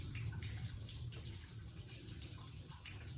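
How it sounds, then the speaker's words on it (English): Water running through a hose in a Sea-Doo Speedster boat, a faint, steady gushing and splashing flow that continues evenly for a few seconds, quiet and without talking. "Let's crank the water on and see if it comes out."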